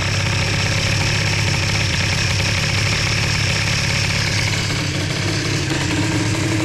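A Bidalot RF 50 WR two-stroke dirt bike fitted with a 20 mm carburetor idles while warming up, a loud, close, steady buzzing drone with a slight wobble in pitch and no talk.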